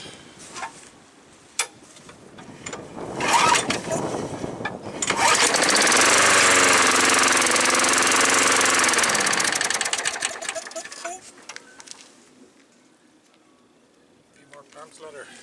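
An old, free-salvaged lawn mower with fresh gas and oil is primed and started; the engine catches and roars steadily for several seconds, then fades. Someone talks before and after the run.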